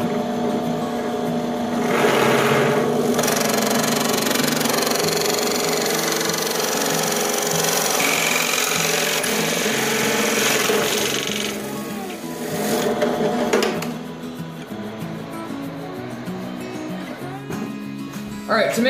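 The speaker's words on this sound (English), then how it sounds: "I decided I wanted to use the circle cutter because I'll get a much better finish with it" A circle cutter routing through a wooden tabletop for a gaming table, a loud, steady machine whine with a harsh buzzing edge that holds for most of the stretch, dipping and surging slightly as the cut progresses, with no talk over it.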